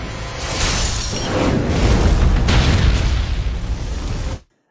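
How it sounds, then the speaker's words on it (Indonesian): An animated monster's laser blast ends in a loud, sustained explosion, a dense roaring boom with crackling debris that holds for several seconds before cutting off abruptly. "Ledakan itu terdengar tim City Hunter"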